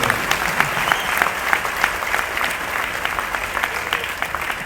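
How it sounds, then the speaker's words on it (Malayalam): An audience gives actor Kamal Haasan a steady round of applause at the Manorama Hortus event. Dense clapping fills the hall continuously for the whole stretch, with no pauses. "ഈ മഹാനടന് നമ്മളൊരു നല്ല കൈയടി കൊടുക്കണം"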